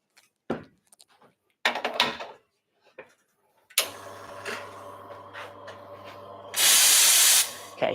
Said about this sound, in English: we want to always purge that steam arm. So give it a good blast, get rid of any water in there.